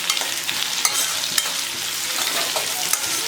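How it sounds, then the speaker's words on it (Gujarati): Onion and tomato curry, with salt just added, being stirred in a pan over heat: a continuous close sizzle with scraping, clinking stir strokes and no talk. "નમક ઉમેરી અને ફરી આપણે હલાવી લેવાનું છે."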